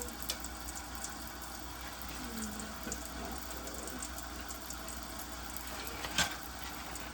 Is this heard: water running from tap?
yes